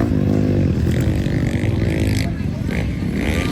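50cc motocross motorcycles idle and rev at a starting gate in a close, rough engine drone with rising and falling pitch, under crowd noise and voices.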